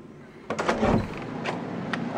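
A door opens in a home: a soft thud and rattle of handle and latch, then a swishing sweep and a few faint knocks, close and moderate over room noise.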